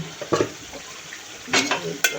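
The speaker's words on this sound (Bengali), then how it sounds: "কাঁচা টমেটো দিচ্ছি, পাকা টমেটো দিয়ে এই যে কষাই নিচ্ছি।" Tomatoes being sautéed in a pan, a soft sizzle punctuated by a few brief scraping and clattering stirs of a utensil against the pan, no speech.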